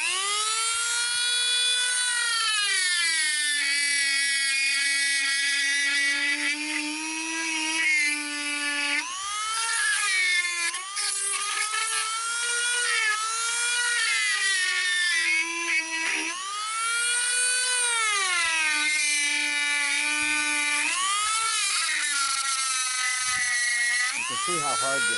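A rotary carving tool fitted with a Typhoon Flame burr grinds into a hard pine knot, a continuous high-pitched whine that rises and dips in pitch as the bit bites and eases off, loud and close throughout with no talking.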